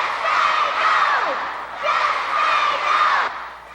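Children at an anti-drug rally in Oakland shout a loud unison cheer, two swelling bursts of massed young voices close by.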